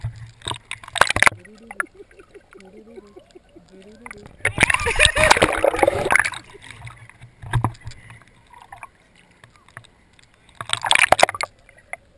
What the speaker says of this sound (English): Now here's Johanna going underwater